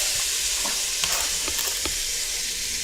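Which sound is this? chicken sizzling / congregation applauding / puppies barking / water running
chicken sizzling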